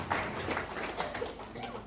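A church congregation applauds during a French-language sermon. The clapping is dense and steady, with a hint of voices in the room.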